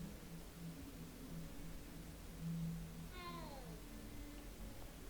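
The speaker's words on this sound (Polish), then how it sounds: "O, co to za dźwięki? Kotełek!" A cat meowing in Hogwarts Legacy, a single short, faint mew over a quiet background hum.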